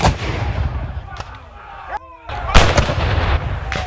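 A Civil War artillery cannon fires at a reenactment in Hainesville, Illinois, one sharp booming blast with rolling echo, loud and nearby, amid crowd and outdoor noise.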